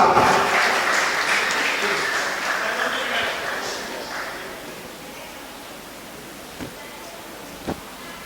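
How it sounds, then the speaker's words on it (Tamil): Hearty applause at a Tamil association award ceremony as an award is presented, a dense roar of clapping that gradually fades away, leaving a few scattered claps near the end. "ஒரு பலத்த கைத்தட்டல்கள் வழங்கலாம்."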